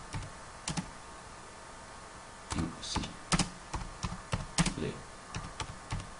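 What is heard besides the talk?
typing an email message on a computer keyboard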